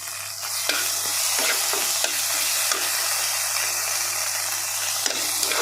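Eggplant curry fries in oil in a wok, a dense, loud sizzle with a low steady hum beneath and occasional sharp stirring taps, no talk.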